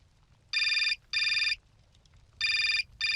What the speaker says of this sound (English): Well, I'm gonna call Edouard.